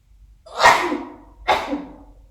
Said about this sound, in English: Wait for my sneeze.